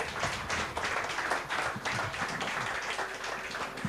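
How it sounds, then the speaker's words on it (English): An audience applauds the winners at a digital media awards event at ITC Parel in Mumbai, a dense, continuous wash of clapping that holds steady for several seconds without a break. "put our hands together and applaud all the winners"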